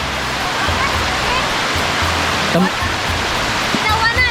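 Hinawanan Falls in Bohol pours as a steady, loud rushing roar of falling water close by, with voices faintly under it.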